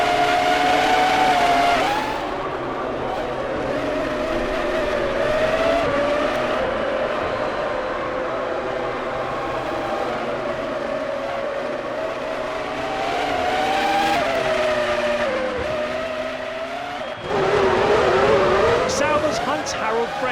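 Formula One race cars from the 2003 Austrian Grand Prix in a video game whine and drone steadily at high revs, with pitch shifts as they accelerate and pass, under near-continuous commentary.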